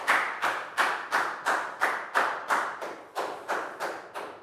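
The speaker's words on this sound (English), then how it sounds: "Big round of applause for Down." Rhythmic clapping from a primary school class, about a dozen even claps in a steady beat, close and fairly soft.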